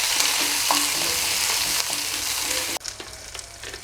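Green chillies, curry leaves and other ingredients sauté in a hot pan with loud, dense sizzling and stirring scrapes, close and continuous, easing to a quieter crackle near the end.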